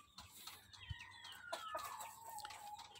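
A Shamo hen clucks and calls repeatedly at a moderate distance, with a rising, drawn-out squawk amid quiet backyard farm background.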